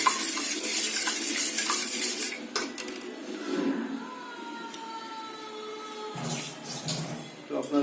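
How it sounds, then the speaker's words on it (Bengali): Four eggs beaten by hand in a bowl with a utensil for an omelette mix, salt and turmeric added: rapid close clinking and whisking strokes, loud at first and then lighter, with no talk. "এখানে আমরা 4টে ডিম নিয়েছি, নিয়ে এটা ভালো করে ফেটিয়ে নিতে হবে।"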